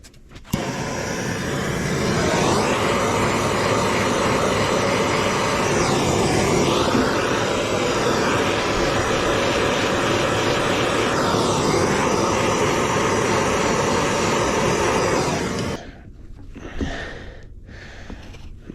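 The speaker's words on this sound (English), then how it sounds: "I'm going to get the torch and just heat this up a little bit because it is cold" A gas torch heats a cold hydraulic line on a Fiat Allis loader, giving a loud, steady roar for about fifteen seconds that cuts off abruptly, leaving faint clatter behind.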